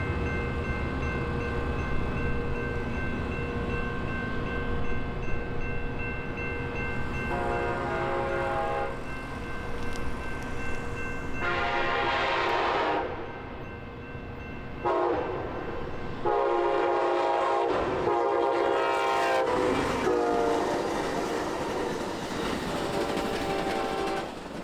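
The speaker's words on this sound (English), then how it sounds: "Up next is Amtrak 504 on its way to Seattle." Amtrak 504 passenger train heading to Seattle rolls past in Chehalis, a loud steady rumble with wheel clatter and repeated horn blasts, the horn sounding in bursts through the middle of the pass.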